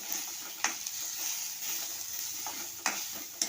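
Freshly grated coconut is stirred and sautéed in a pan with a soft continuous sizzle, broken by a few light scrapes and taps of the spoon against the pan.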